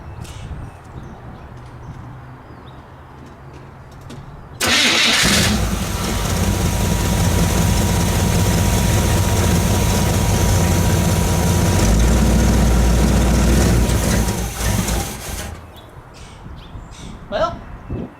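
A Chevrolet C10 truck engine with a working carburetor catches and runs loudly and steadily for about ten seconds, then cuts out, with quieter background sounds before and after.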